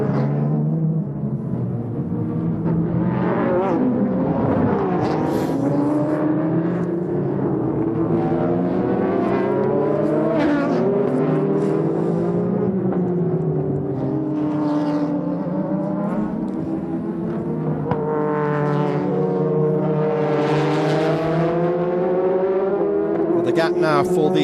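GT race cars lapping Okayama circuit during a Super GT 300 km race, engines droning and rising in pitch as cars pass, continuous and fairly loud, under steady commentary.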